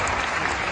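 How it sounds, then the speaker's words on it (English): Loud clapping from a crowd at a Hasbro Star Wars panel at Comic Con Paris, hands close to the microphone, making a dense, thick burst with no pauses. "Quite loud when you clap in front of the microphone"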